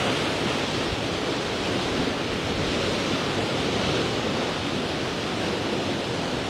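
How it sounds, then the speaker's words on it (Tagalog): Strong typhoon wind roars steadily in Sta. Ana, Cagayan, a dense, constant rush of noise with no pauses and no voices. "Ito na naman ang malakas na hangin dito."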